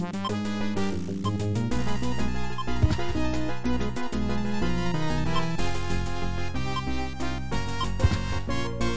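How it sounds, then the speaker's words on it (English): DOS video game music from a sound card's Yamaha OPL2/OPL3 FM synthesis chip plays continuously, with dense, bright tones and punchy percussive hits in a busy rhythm throughout. "A lot of sound cards use a Yamaha OPL 2 or 3 chip to provide music synthesis."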